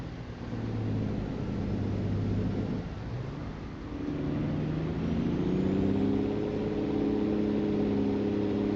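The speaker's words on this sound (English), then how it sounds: "That's quite the hill for our truck to be climbing." A heavy truck engine in American Truck Simulator labors up a steep hill, a steady loud drone that deepens and shifts pitch midway as the load strains, running continuously with no talk.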